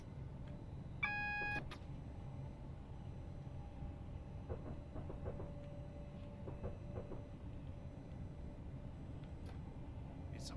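Simulated cross-country train running in Train Sim Classic, a steady low rumble with a brief tonal beep and faint clicks, quiet and continuous throughout.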